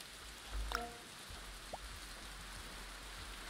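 Rain falls in the life-simulation game Youtuber's Life 2, a soft, steady wash of patter that runs throughout at low volume, briefly broken by a short tonal blip.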